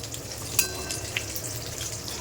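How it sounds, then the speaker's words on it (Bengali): Fish fries in a pan with a soft, continuous sizzle, heard close but fairly quiet, with a couple of faint clinks over the crackling. "এখানে মাছ ভাজা চলছে"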